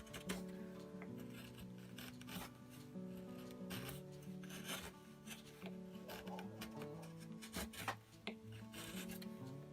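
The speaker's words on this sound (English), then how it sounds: "the red cedar is nice and soft that you can actually carve it out pretty easily." A small chisel carves soft red cedar wood in short, scraping strokes that come irregularly and close, fairly faint, with a tonal hum running underneath.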